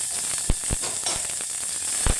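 Chopped onion sizzles steadily in a hot pan for a quick home-style vegetable dish, a continuous close frying hiss broken by a few soft clicks of stirring.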